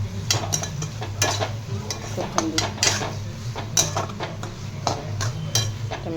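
Dried shrimp curry (sukat) with coriander being stirred in a pan: repeated clinks and scrapes of a spatula against metal over a low, soft frying sizzle and a faint background hum.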